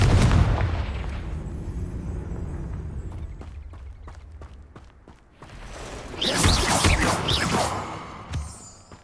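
The Confringo spell in Hogwarts Legacy goes off with a heavy booming blast and a whoosh. Crackling debris and scattered bursts follow, and a second burst of fiery noise swells later, all loud with no talk.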